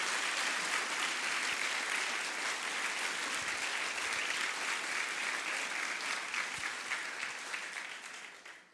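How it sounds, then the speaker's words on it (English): A conference audience at EuRuKo 2018 gives long, even applause, a dense spread of clapping from many hands that holds steady before tapering off at the end. "You may now applause"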